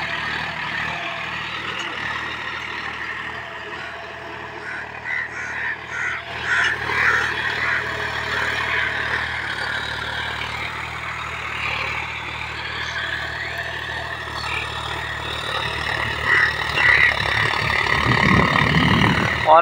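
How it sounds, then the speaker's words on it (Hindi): A John Deere 5105 tractor engine runs steadily while ploughing a field, a continuous droning rumble that swells and grows louder toward the end, with someone talking over it throughout. "काफी शानदार चला रहा है बच्चा ट्रैक्टर को।"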